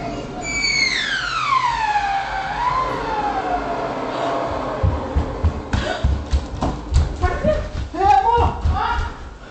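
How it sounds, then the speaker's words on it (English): A home fire alarm in security footage gives a loud, high-pitched wailing tone that sweeps downward, then fades under excited voices and clattering sounds as people rush in. "the fire alarm finally starts sounding off"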